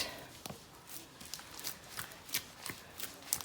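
Yufka bread dough being kneaded by hand on the floor at home, soft irregular slaps and presses in an uneven rhythm, close but quiet, with no talking.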